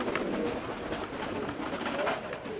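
Show pigeons from a fancy-pigeon club in Petra, 2014, cooing softly and steadily in a low, rolling murmur close by, with no voices over them.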